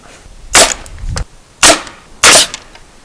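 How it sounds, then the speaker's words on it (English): A nail gun fires nails into wood while building a chicken coop, three sharp, loud cracking shots spaced about a second apart, close and with nothing else heard. "this way you can shoot them quick with the gun. We'll put one nail in it"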